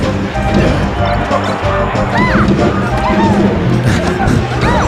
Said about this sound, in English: Just down smashing in the corner.